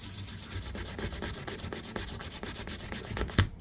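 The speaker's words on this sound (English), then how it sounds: "Now I'm just using some really fine sandpaper to get the metal, just to get a little bit more polished look to it." Fine sandpaper polishing the metal blade of a vintage Camillus hawkbill knife, a close rhythmic scratchy rubbing in quick repeated strokes, ending with a sharper scrape.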